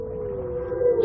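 A single sustained wailing tone, steady and slightly wavering in pitch, swelling a little toward the end, like a distant siren-like call.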